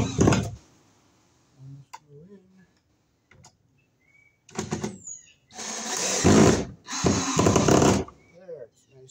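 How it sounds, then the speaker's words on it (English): A DeWalt screw gun with a Phillips bit drives screws into a wall stud, giving loud close whirring bursts with clicks and pauses between them and a few brief spoken words. "we'll use our Walt screw gun, Phillips bit"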